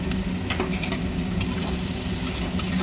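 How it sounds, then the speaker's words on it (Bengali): Chopped tomato is added to a pan where onion and prawns have been frying, giving a continuous close sizzle with soft intermittent stirring scrapes and a few light clinks. "এটা টমেটো কুচি দিয়ে দিলাম"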